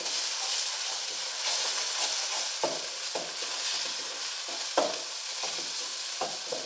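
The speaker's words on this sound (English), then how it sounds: "Once the onion is brown, add 1 tablespoon of ginger garlic paste. Saute this." Ginger garlic paste sautéing with browned onion for mutton masala, a steady close sizzle and hiss broken by several sharp spatula scrapes and taps against the pan, no voices.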